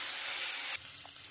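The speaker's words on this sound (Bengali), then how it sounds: "আমি আলু কেটে রেখেছি, আমি আলুগুলো দিয়ে দেবো।" Diced potatoes dropped into hot oil seasoned with cumin seeds and bay leaf for a soybean curry, giving a loud, steady sizzle that briefly drops to a softer, quieter fry.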